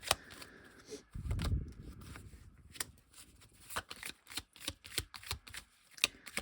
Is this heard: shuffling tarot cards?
yes